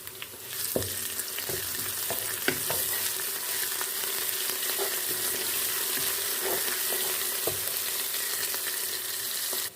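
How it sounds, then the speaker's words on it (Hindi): Onion with garlic-ginger paste frying in a pan for a turnip meat curry, giving a continuous dense sizzle with occasional stirring knocks and scrapes throughout, close up and without talk. "अब इसमें हम लहसुन अदरक का पेस्ट डालेंगे और इसको हम फ्राई कर लेंगे।"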